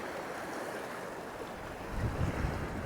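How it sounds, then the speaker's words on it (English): Steady outdoor wind roars into the microphone while lure fishing for cod, then surges into a stronger, rumbling gust near the end. "Oh, that's a big gust."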